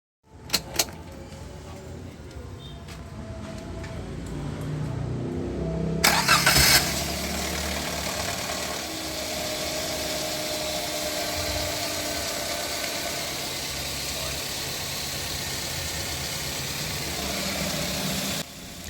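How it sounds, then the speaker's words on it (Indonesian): Daihatsu Gran Max / Luxio engine starting with a brief crank and catch, then settling into a steady, fairly quiet idle that runs on alone, after a few clicks at the start. "sekarang coba kita nyalakan mesinnya"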